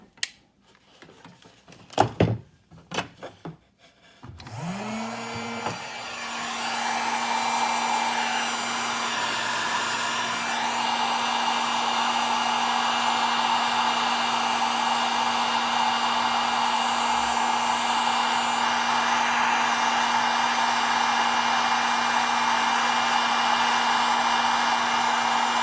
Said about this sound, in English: You want to take a heat gun and shrink that baby down.